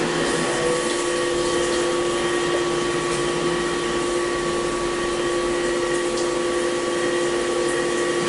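A milling machine with a new motor and belt drive runs steadily at 750 RPM, cutting a top face at 8 inches a minute, giving a constant whine with tonal hums over a continuous broadband hiss, close and loud throughout.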